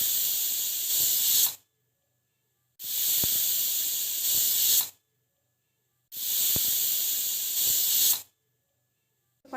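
A pressure cooker whistle lets out three loud, long hissing bursts of escaping steam, each lasting about two seconds, separated by short silences.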